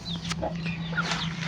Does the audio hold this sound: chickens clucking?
yes